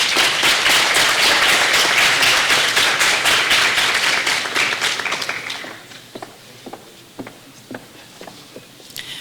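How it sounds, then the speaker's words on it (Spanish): Loud, dense applause from a university faculty audience fills the first half, then thins out into scattered claps that fade to a few lingering ones. "Recibámosla con un fuerte aplauso."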